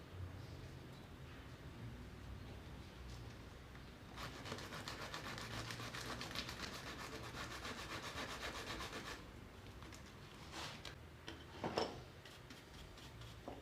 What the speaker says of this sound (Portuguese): Agora nós vamos dar um acabamento na lixa grossa, dentro dele e nas paredes